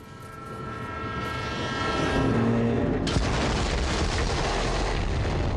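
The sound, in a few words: train from a video game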